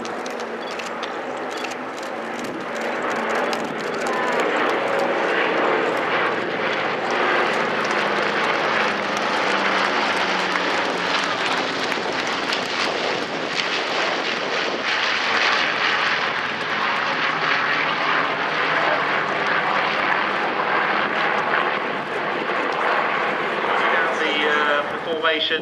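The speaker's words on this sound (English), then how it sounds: "an aeroplane that is flying largely a result of the efforts of the LLA" A loud propeller aircraft engine roars steadily as the plane, TE311, passes close overhead at an air show, with faint crowd chatter underneath.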